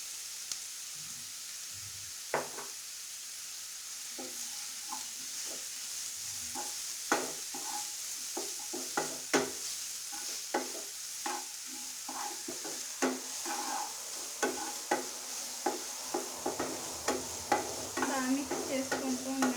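Ginger garlic paste stirred in hot oil in a pan, giving a steady sizzle broken by irregular, fairly close scraping strokes of the spoon against the pan.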